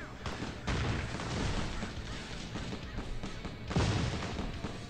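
Loud booming vehicle cannon shots in the video game Dead Paradise over a constant rumbling roar, with a heavy blast near the start and another strong one toward the end.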